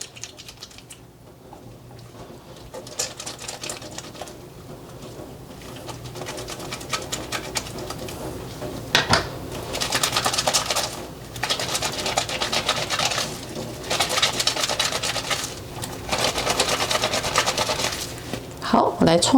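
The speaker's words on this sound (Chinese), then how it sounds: "我现在呢就先用这个马赛皂来搓搓看" Laundry is scrubbed by hand with a bar of Marseille soap, making a series of rough, rhythmic rubbing bursts that are quiet at first and grow louder and denser in the second half.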